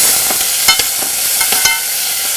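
Tomatoes and spices frying in a pan, a steady close sizzle with a few soft stirring scrapes and clicks, heard alone without talk.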